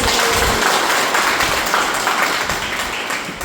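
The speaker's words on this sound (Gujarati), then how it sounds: "ફરીથી એકવાર આપણે ખૂબ જોરદાર તાળીના ગણગણાટ" Sustained, dense applause from an audience at a kit distribution event fills the whole stretch at a steady, loud level, with no voices standing out.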